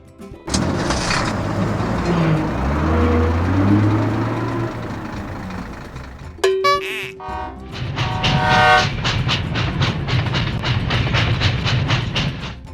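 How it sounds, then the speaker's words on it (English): A train rumbles past loud and close with rhythmic clickety-clack over the rails, a sharp horn blast cutting in midway before the rapid wheel clatter resumes. "Train."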